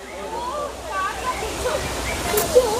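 Small cascades of the Abbi Gundi waterfall near Sakleshpur, running low in the dry season, give a steady broadband rush of water beneath a person talking close by.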